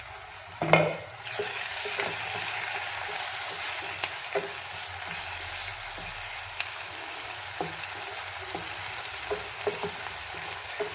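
Onions and tomatoes frying in plenty of oil for a boondi curry, a steady close sizzle with occasional stirring scrapes and taps of a spoon against the pan, no talk heard.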